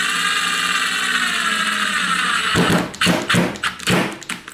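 A screw is driven into a cabinet door hinge with a power drill, starting as a steady high whine, then breaking into several short, loud bursts of drilling as it bites into the wood.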